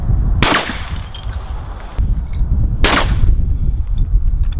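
Two sharp shotgun blasts ring out at a sporting clays layout, the first near 0.4 s and the second near 2.8 s, each loud and close with a short decaying tail over steady outdoor wind and rumble.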